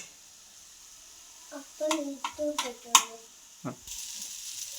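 Tomato mint rice being mixed in a pan, a handful of close scraping and tossing strokes with light sizzle, separated by short pauses.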